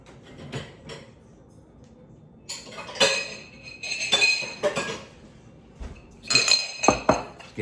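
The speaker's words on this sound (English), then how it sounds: "let me grab a bowl" Ceramic bowls and dishes clink and clatter as one is pulled from a stack in a home kitchen, several sharp nearby knocks in irregular bursts with quiet gaps between.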